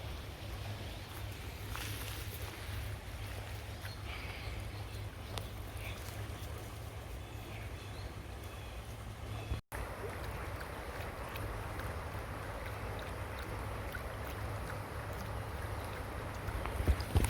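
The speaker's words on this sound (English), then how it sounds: "Water flow." A stream flows steadily in a continuous, even rush of water that never pauses, moderately close and fairly quiet, with a faint low rumble beneath it.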